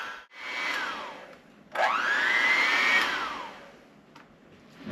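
Garlic being mixed thoroughly into a seafood dip, heard as a steady motorized whirring in two long bursts whose pitch swells and falls, with no talking.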